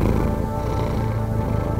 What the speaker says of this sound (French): Ça, c'est un ronronnement normal.